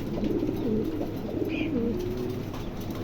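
Pigeons cooing steadily, an Andalusian hen paired with a silver cock, with low rolling coos repeating under a constant background hum and no talk.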